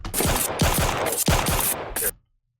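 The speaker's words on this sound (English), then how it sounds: "Hold on, were these some fake gunshot sounds?" Four rapid bursts of harsh, crackling fake gunshot sound effects, loud and close, each about half a second long, then sudden silence.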